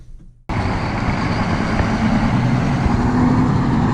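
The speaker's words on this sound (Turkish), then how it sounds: "Abi adamın arabası V8 gibi çalışıyor yemin ederim size ya." A DAF XF480 truck engine starts up abruptly after a brief quiet moment, then settles into a steady, loud, close diesel rumble that runs on without talk.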